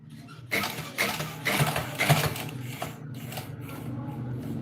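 A sewing machine stitches a neck lining for a neckline design, a steady mechanical whir of rapid needle strokes that starts after a short pause and runs continuously, fairly close and moderately loud.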